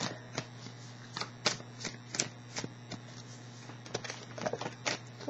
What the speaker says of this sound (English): I want to get one more card from here, I think.